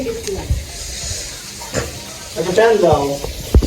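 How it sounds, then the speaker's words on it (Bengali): Meat cooks in a pot on a home stove with a soft hiss and sizzle, punctuated by stirring scrapes, while people talk close by over the cooking. "এখন রান্না করতেছে আজকে ভাইরাল পাতিলে মাংস"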